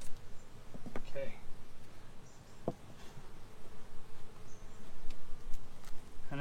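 Honeybees buzz around an open hive as a thin, steady insect drone wavers near and far, with a few brief louder passes. A voice speaks faintly in the background.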